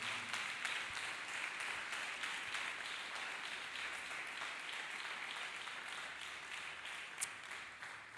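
A church congregation applauds in praise of Jesus Christ, a steady wash of many hands clapping together that holds for several seconds at an even, moderate level, with one sharper clap standing out near the end.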